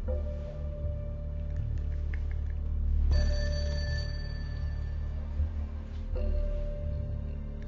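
A telephone rings in repeated bursts with short gaps between them, steady and clear against a low background hum, with no one talking over it.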